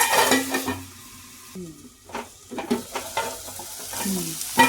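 Tomatoes for tomato chutney cooking in a pan, with sizzling and a spoon stirring and scraping through them in uneven bursts, close and fairly loud, with no talk.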